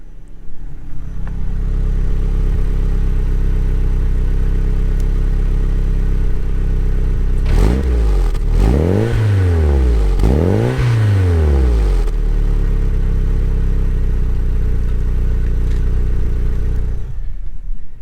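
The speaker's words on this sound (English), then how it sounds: "I figure I'll let you see what the exhaust sounds like. It's super quiet, but yeah, here it is." Nissan Silvia S15 with a quiet exhaust idles steadily, then gives two sharp revs that climb and fall before settling back to a low, even idle.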